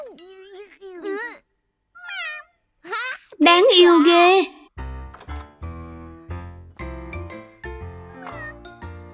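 An animated cartoon cat meows several times in high, whiny calls, followed by plinking cartoon music, with a voice speaking briefly between the meows.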